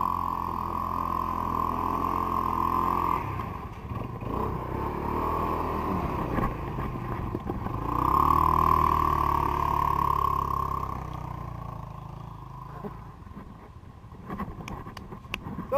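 A Kawasaki KXR quad bike engine drones steadily while riding, loud and close throughout, swelling louder in the middle before easing off toward the end.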